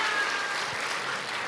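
Church congregation applauding during a Sunday worship service, a steady, dense wash of clapping from a large crowd filling the whole stretch without pause.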